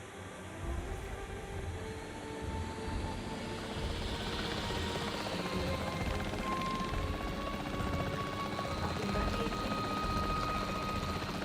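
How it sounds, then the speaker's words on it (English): Capture team helicopter in Jurassic World Evolution 3, a steady rotor drone with a rising whine, continuous and fairly close beneath game ambience. "The priority needs to be tranquilizing it with the capture team chopper."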